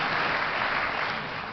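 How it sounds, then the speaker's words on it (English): An audience claps steadily and close by, a dense, even wash of applause that holds through the whole stretch and eases slightly toward the end, with no voices. "you can give me an applause on that one"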